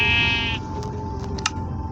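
A sheep in the Minecraft video game gives a loud, buzzy, harmonic bleat lasting about half a second at the start, followed by a few short clicks and thin game sounds over a low hum.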